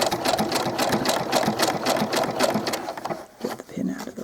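A sewing machine stitches a small doll t-shirt, its needle running in a fast steady rhythmic hum that slows and pauses near the end as the fabric is turned at the underarm corner.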